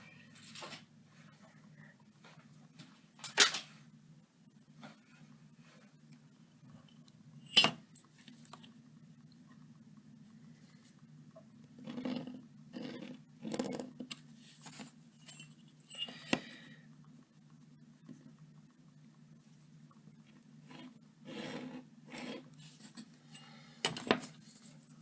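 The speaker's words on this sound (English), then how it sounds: "Let me use a ruler." A ruler and pen used to draw a chart on paper, heard as quiet, sparse taps and clicks with short bursts of scratching over a faint steady hum, with no talk.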